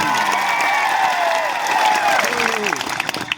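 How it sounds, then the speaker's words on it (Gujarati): A crowd at a village night speech claps and cheers in a broad wash of applause, while an amplified voice carries over it and the clapping thins toward the end. "સૌ માટે એકવાર જોરદાર આપણે તાળીઓ પાડી લઈએ"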